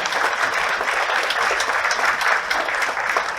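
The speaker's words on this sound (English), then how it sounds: "give him a big round of applause" Audience at a human rights event applauding, a dense, steady burst of clapping from a crowd in a hall, sustained and fairly loud throughout.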